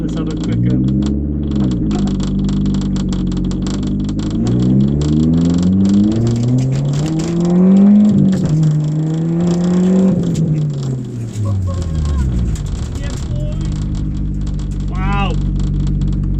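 Toyota Starlet EP82 engine revving hard on a test drive, the note climbing repeatedly through the gears with rising whines and drops between shifts, loud and close inside the car, with someone talking over it.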